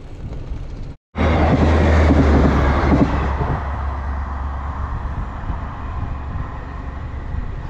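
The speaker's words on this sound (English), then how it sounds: "Train is coming." A train rolls past near a lakeside winter campsite, a loud, steady rumble with rattling wagons that sets in abruptly after a brief silence and holds strong before easing slightly, with no voices present.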